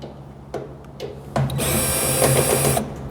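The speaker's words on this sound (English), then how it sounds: "take your drill gun or 6-in-1 screwdriver and take these out" Cordless drill driving screws out of the cabinet of a newer Whirlpool top-load washer, a few short bursts followed by a steady, louder whir lasting over a second, close up with no talk.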